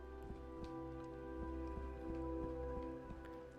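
Steady rain falls in the Terraria video game, a continuous soft patter layered over a low sustained musical drone with a faint repeating rhythmic pulse and no talking.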